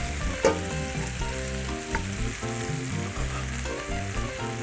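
Steak sears with garlic in a hot cast iron pan, a loud continuous sizzle and crackle up close, with low background music and no speech.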